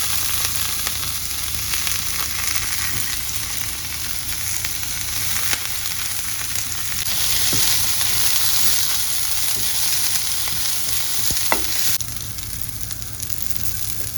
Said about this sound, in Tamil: இந்த பதத்தில் வெங்காயம் வதங்கி வர முருங்கைக்கீரையை போட்டு வதக்க போகிறோம்.